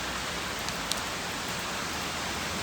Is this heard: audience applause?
no